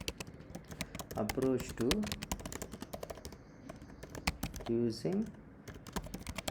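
Rapid clicking of computer keyboard typing runs throughout, close and steady, with someone speaking intermittently over it.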